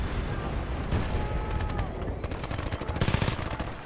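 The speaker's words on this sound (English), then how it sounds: "You gotta get so close for this gun to be good." Rapid gunfire from a close-range gun in Battlefield Bad Company 2, a dense rattle of shots that grows into a quick burst near the end, set against busy battlefield noise.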